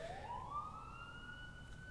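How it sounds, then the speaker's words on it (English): A real emergency siren wails outdoors, its tone sweeping upward and then holding, faint and distant, heard alone without any talk. "I was wondering why all of a sudden there was a siren"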